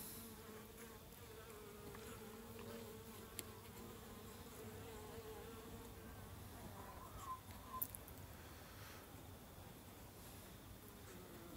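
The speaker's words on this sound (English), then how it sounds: "There is a couple of bees in the cage" Honey bees buzz around a queen cage inside a hive, a faint, steady hum that runs on with no other sounds.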